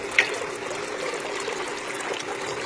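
Water is tipped from bowls into a small artificial garden pond beside a cascade, giving a steady close trickling and streaming flow with a brief splash at the start.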